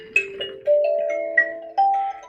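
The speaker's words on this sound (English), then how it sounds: "it's basically these tines, and this is a hollow box. It's got sound holes in the back" An Amoon tine instrument with a hollow wooden box and rear sound holes, plucked in a short sequence of clear, sustained chime-like notes, each ringing and decaying into the next, close and alone.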